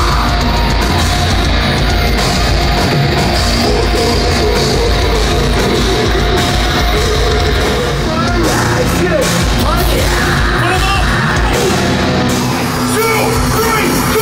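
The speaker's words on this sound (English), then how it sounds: "a clip of my scream when it's fully warmed up" A false chord vocal scream, harsh and distorted, stays loud and sustained throughout, filling the whole clip without a break.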